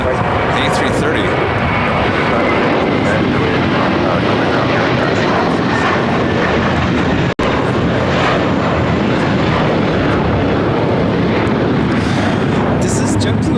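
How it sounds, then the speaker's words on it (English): A JetBlue Airbus A321 jet takes off from LAX, a loud, continuous, broad engine roar that fills the whole stretch close by. "This is JetBlue Airways 888 taking off to Boston on the A321"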